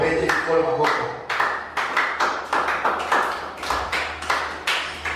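A church congregation at a Sunday worship service claps hands in a steady, rhythmic beat, loud and close, with sharp repeated slaps over a low hum of voices and room noise.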